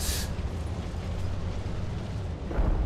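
Heavy artillery fire and falling bombs in War Thunder, a tank battle over Berlin: a sharp blast opens, then a dense low rumbling roar holds throughout, with another heavy impact swelling near the end.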